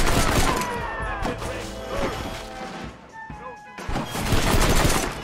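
Gunshots from a weapon in the western game Red Dead Redemption, a dense, continuous clatter of shots and impacts mixed with game noise, loud and busy throughout with a brief dip near the middle.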